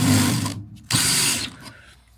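Keyless drill chuck ratcheting as it is hand-tightened during fence and ramp repair work, two close bursts of dry clicking separated by a brief pause, loud and alone with no talk.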